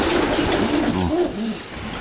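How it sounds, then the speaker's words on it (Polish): Older pigeons in a loft coo in soft rolling repeated calls, several birds overlapping close by against a steady background noise. "Tu mamy gołębnik z takimi starszymi troszeczkę gołębiami."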